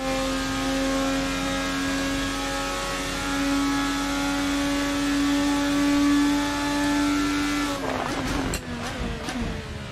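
A Formula 1 car during Miami Grand Prix qualifying holds a steady high-pitched engine whine with tonal harmonics, then the note breaks into rapid gear-shift and downshift crackles near the end, heard through a broadcast feed without talk.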